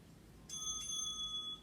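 A single bright bell ring sounds partway through a stretching routine, ringing out clearly over quiet room tone and fading over about a second.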